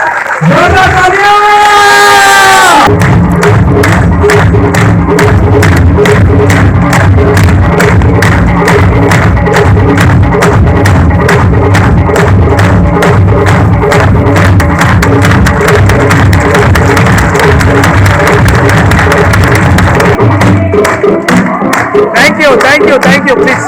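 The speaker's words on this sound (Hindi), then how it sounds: "जोरदार तालियां।" Loud, steady clapping from a big seminar audience goes on for about twenty seconds with cheers and whoops mixed in, following a brief moment of amplified voice at the start and fading into chatter at the end.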